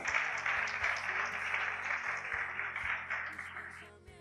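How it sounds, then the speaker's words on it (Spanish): Church congregation clapping and applauding together for the Holy Spirit, a dense steady wash of hand claps at moderate distance, fading slightly toward the end, with a low hum of instruments underneath. "Dele un aplauso al Espíritu Santo."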